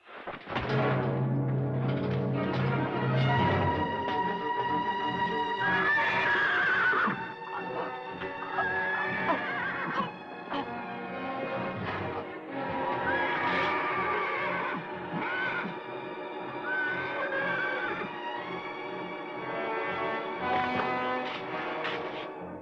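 A mare about to foal whinnies repeatedly, the high wavering neighs standing out over a dense, loud backdrop of orchestral music.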